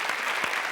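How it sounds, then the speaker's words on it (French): Studio audience applause on a French television show, a brief, even burst of clapping at moderate level. "Daniel Fouché, on peut l'applaudir."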